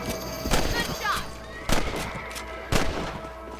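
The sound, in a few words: rifle gunshots in the video game Red Dead Redemption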